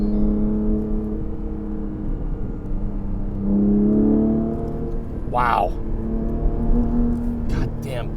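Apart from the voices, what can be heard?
2022 Porsche 718 Cayman GTS 4.0 accelerating in Sport Plus mode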